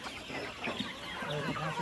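Kadaknath, RIR and local chickens on a poultry farm, clucking softly amid a dense, noisy barnyard background, with faint talking nearby.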